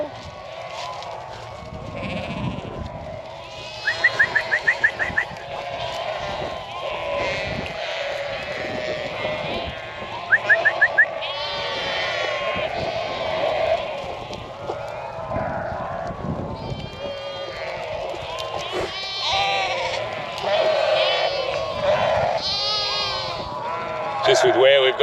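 Sheep bleat repeatedly in a paddock on a canola farm, their calls rising near and far over about twenty-five seconds while people talk throughout.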